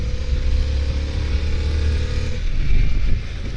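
A 2023 Harley-Davidson Pan America Special motorcycle rides along with a deep, steady engine rumble and wind rush close by, the pitch easing and then swelling slightly near the end, with no talk.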